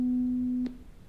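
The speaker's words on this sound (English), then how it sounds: "these type of tones across the board. Do you hear them?" A pure steady beep tone from a hearing test plays clearly for about half a second and then cuts off, leaving a quiet room with a faint click at the end.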